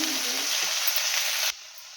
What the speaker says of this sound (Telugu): క్యాబేజీ క్యాబేజీ ఫ్రై అండి